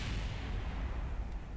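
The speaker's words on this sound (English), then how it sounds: "the explosion speaks for itself." In Kerbal Space Program, a spacecraft slams into the surface of the moon and explodes, giving a deep, rumbling blast that fills the whole stretch and rolls on steadily without talk.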